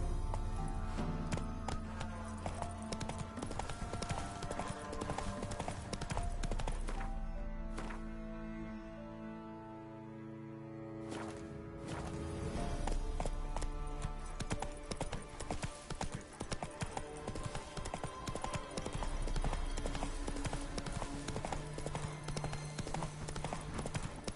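Hooves of a horse galloping in the video game Witcher 3 beat in a steady, fast clip-clop rhythm over layered game music, briefly easing mid-clip before the pounding returns strong and close.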